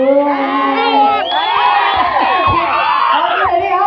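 Young crowd at a stage event cheering, whooping and shouting loudly and continuously, with excited voices overlapping throughout.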